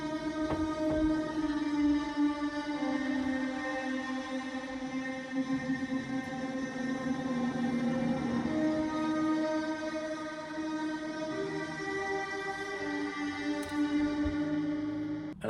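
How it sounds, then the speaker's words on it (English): A sustained synth lead line plays in a rock song mix, with held, harmonically rich tones gliding over a dense backing, loud and continuous with no voices. "the main sort of emotional impact part of the song is this lead line that I put in here"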